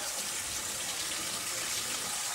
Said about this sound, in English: I'm starting with hot water from the faucet